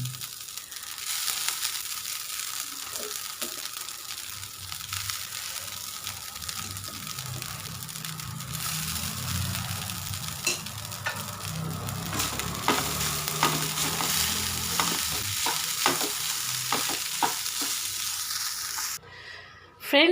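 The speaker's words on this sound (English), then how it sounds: "It just takes around a minute or two for it to just fry it nicely." Rice sizzling and frying in a pan for a South Indian rice dish, stirred steadily throughout with scraping and clinking, a continuous close sizzle with no talking.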